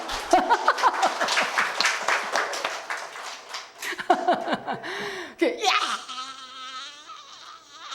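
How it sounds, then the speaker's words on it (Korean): A church congregation breaks into scattered applause mixed with laughter and lively voices, then the clapping dies away into higher-pitched vocal sounds. "박수 한번 쳐봐요"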